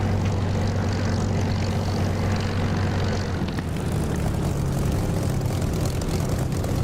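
Aircraft engine in the DCS flight simulator game while taxiing on a runway, a loud steady propeller drone with a low hum, shifting slightly midway, heard alone.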